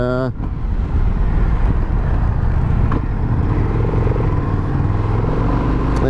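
A 2022 Indian FTR R Carbon naked motorcycle rides along on a road, its engine droning loudly and continuously with wind rush, and a voice speaks over the ride.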